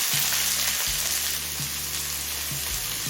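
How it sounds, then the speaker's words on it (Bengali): A large chopped onion fries in oil with ginger and garlic for mixed chow mein, giving a steady loud sizzle with regular stirring scrapes, no voices. "এবার দিচ্ছি কুচিয়ে নেওয়া একটা বড় সাইজের পেঁয়াজ"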